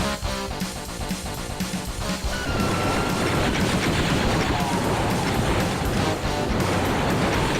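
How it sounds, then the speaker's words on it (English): Chain gun fire in the Doom video game using Star Wars sound effects, a fast steady stream of loud repeated shots that grows denser and continuous, with a few clattering impacts. "Doom guys getting hurt by a chain gun"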